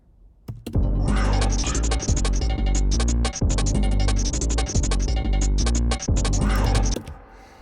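A punchy electronic drum loop with a deep, booming kick thumps in a steady repeating pattern, loud and up close with bright clicky hits on top.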